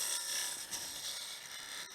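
Turning tool taking a light finishing pass on wood spinning on a lathe, a continuous dry rasping scrape that stays steady and close with small dips, no voices.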